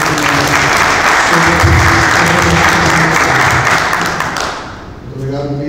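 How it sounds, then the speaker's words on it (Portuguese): Loud, dense applause from a crowd at a thesis presentation for a speaker that keeps going, then fades near the end. A voice can be heard under it. "Gostaria de pedir uma salva de palmas"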